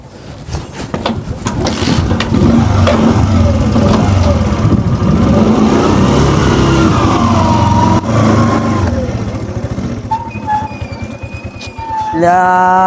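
A motorbike engine sputters to life and revs loudly up close, the roar rising and falling before settling, with a few faint tones near the end.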